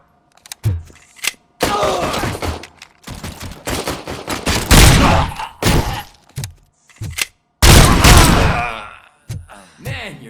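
Heavy bursts of gunfire from a gun in the video game RoboCop Rogue City, loud booming volleys separated by short silences, with sharp single shots and a rumbling tail between blasts.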